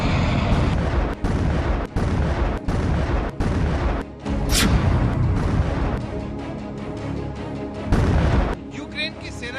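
Ukrainian artillery pounds away at Russian tanks in heavy, repeated booming blasts that crowd together into a dense, loud barrage, with sharper cracks mixed among the rumbling detonations.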